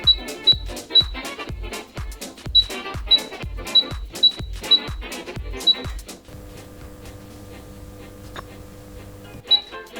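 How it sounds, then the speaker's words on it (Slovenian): Broken, jammed convection oven fan: a loud run of sharp, evenly spaced mechanical knocks for about six seconds, then a low steady electrical hum, with one more knock at the end. "No, to je zvok pokvarjenega oziroma zagozdenega ventilatorja."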